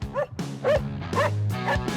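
Several short, high yips and barks from a search-and-rescue training dog nearby, coming in quick bursts with slight whimpering tones between them.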